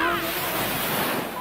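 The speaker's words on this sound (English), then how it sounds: "What's the sound of hundreds of pounds of water pressure behind you?" Water rushes under hundreds of pounds of pressure at a thrill attraction, making a steady, loud, broadband roar that fills the whole moment without a break.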